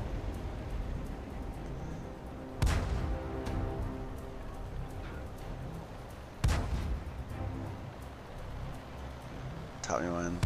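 Tank cannon shots from an SU-85 in a tank video game: two loud, sharp booms a few seconds apart with ringing tails, and a third burst at the end, over a steady engine rumble.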